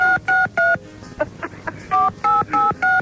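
Touch-tone telephone keypad dialing a number: a quick run of three beeps, a short pause with faint clicks, then four more evenly spaced tones, close and clear.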